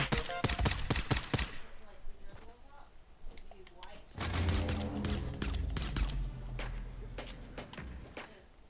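Rapid bursts of gunfire in the video game Fortnite, dense volleys early then scattered sharp shots over a sustained rumble, with a person talking over them.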